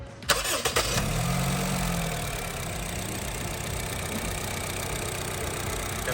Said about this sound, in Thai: เสียงเครื่องยนต์นะครับ